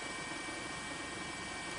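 A news helicopter hovers over the tsunami striking the Sendai area of Miyagi Prefecture, Japan, its steady broadband engine and rotor roar holding continuously throughout without any talk.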